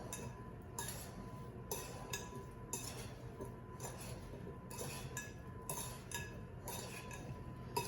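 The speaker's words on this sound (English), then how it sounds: "So we're just gonna stir that up a little bit." A spoon stirs apple and cranberry tart filling in a bowl, giving quiet, irregular clinks and scrapes against the dish with no talking.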